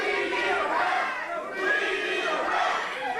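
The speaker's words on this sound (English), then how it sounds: "And the crowd now chanting for a referee." A wrestling crowd at an RWA championship match chants for a referee, a loud, continuous roar of many voices that fills the arena without pause.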